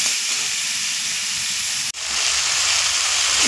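Spice paste sizzles and hisses steadily in a hot pan while being stirred, a loud, continuous frying sound with one brief break midway.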